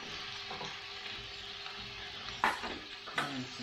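Chopped onion frying and sizzling in a pan alongside chilies, a steady hiss with a couple of brief stirring scrapes near the end.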